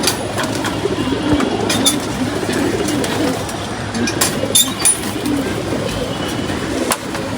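Pigeons coo repeatedly close by, soft throaty calls overlapping in a steady murmur, with occasional sharper flutters and clicks mixed in.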